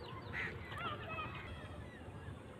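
Several ducks playing in pond water in rural Bengal, giving faint honking quacks a short distance off over a soft outdoor background, with no one speaking.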